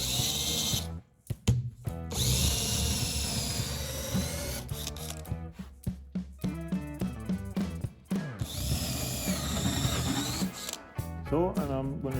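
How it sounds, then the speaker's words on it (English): A power drill whirs in short bursts, revving up and stopping, while someone talks nearby between the runs. "I'm gonna drill a hole so I get the radio there"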